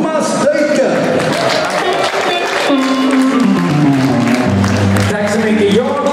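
An audience at a nostalgic dance gala in the Åhaga locomotive workshop in Borås applauds as a performer comes on stage. The loud, steady clapping blends with band music throughout.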